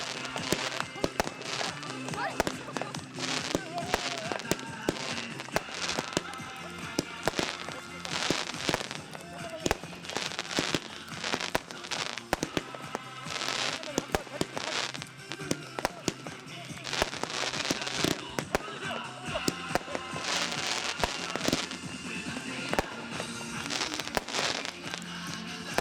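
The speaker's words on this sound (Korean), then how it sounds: "다시 한번 멋진 폭죽의 야경이 이루어집니다." Fireworks exploding at a nighttime outdoor celebration with lit letter signs, a long barrage of rapid crackling bursts and pops sustained throughout, with a crowd and an announcer's voice in the mix.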